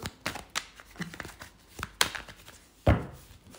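A deck of cards is shuffled by hand in quick, close riffles and taps, irregular and crisp, with a sharper slap near the end.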